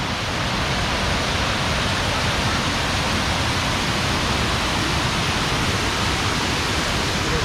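Kuang Si waterfall near Luang Prabang pours in a steady, dense, broadband rush of falling water, close and unbroken throughout, with no voices.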